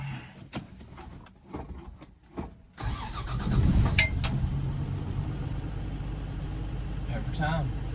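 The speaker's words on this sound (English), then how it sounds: "Cold start." A Plymouth Belvedere is started cold: a few quiet clicks and rustles, then the starter cranks and the engine fires and settles into a loud, rough idle close by, with a voice speaking briefly.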